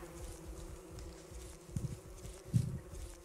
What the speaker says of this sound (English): I'm running through a killer bee field right now